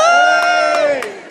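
A comedy club crowd in Southend lets out a short, loud cheer with whoops and raised voices, fading over about a second.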